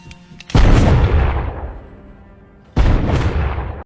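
Gunfire in a Dwayne Johnson action film: a loud, close blast opens the scene and rumbles away slowly, then a second heavy shot lands near the end, with no speech.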